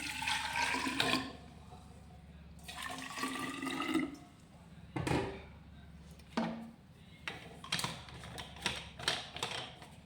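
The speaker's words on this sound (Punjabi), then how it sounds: "ਹੁਣ ਆਪਾਂ ਇਹਦੇ ਵਿੱਚ ਪਾਣੀ ਪਾ ਦਿੰਨੇ ਆ" Water poured from a tap into bottles holding rice for cleaning, bursts of gushing, gurgling flow separated by pauses, then rattling and clicking sounds, close by.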